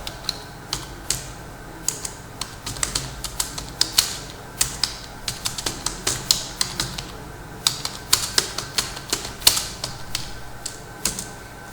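Keys clack on a computer keyboard while text is entered in MS Word, an irregular run of close, crisp taps with short pauses between bursts.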